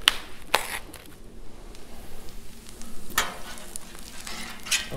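Oil and butter crackle and hiss on a Blackstone flat-top griddle, a soft steady sizzle broken by a few sharp scraping clicks near the start and middle, with no talking.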